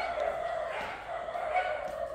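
A noisy dog barks repeatedly near the front gate of a house, each bark carrying a steady, moderately distant tone over a constant background hum.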